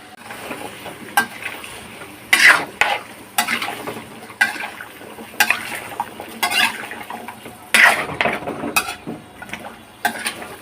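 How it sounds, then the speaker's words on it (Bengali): Papaya being stir-fried in a pan, with repeated sharp scraping and clattering strokes of a spatula over a low sizzle, close and irregular, no talk. "পেঁপে সহ কষানো হবে।"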